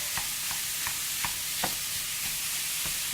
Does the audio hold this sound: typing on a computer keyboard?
no